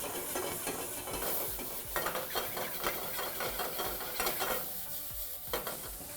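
Onion and tomato masala for egg bhurji sizzles steadily in a hot pan while a spoon stirs and scrapes it in a loose rhythm, close and continuous.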